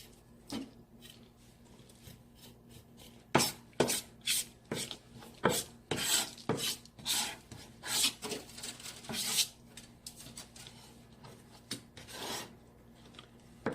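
A knife finely mincing chili peppers on a board, a quick irregular run of raspy scraping chops, close and fairly quiet, with short pauses between bursts.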